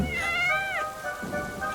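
A cat gives one drawn-out, wavering meow close by, followed by quieter rustling and soft background noise, with no clear talking.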